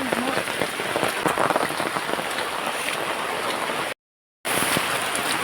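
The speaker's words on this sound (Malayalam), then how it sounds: "ഇവിടെ നല്ല മഴയുണ്ട്, ഞാൻ കാണിച്ചു തരാം. നല്ല മഴയാണ്" Heavy rain pours down outdoors in a dense, steady roaring hiss that fills the whole clip, close and loud, broken once by a brief dropout of silence.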